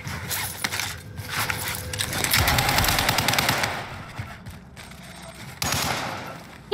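Sustained rattling machine-gun bursts in a first-person shooter game, loud and continuous through the middle, then thinning into scattered shots.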